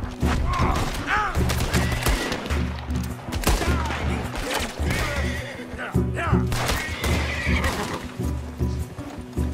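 Loud, repeated horse neighs and snorts ring out close by in Red Dead Redemption, mixed with hoofbeats and bursts of gunfire.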